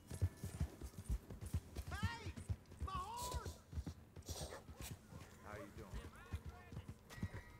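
Horse hooves clip-clopping in Red Dead Redemption 2, a quick rhythmic patter of close hoof strikes that runs throughout, with a short whinny-like call midway and voices talking over it.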